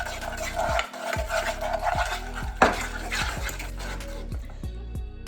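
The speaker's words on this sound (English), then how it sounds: "And we need to mix this up. Like so, it's like a paste." Miso paste and toasted sesame seeds are stirred together in a bowl, giving a steady run of soft, sticky scraping and tapping strokes close by, with occasional light clinks of utensil against dish and no talking.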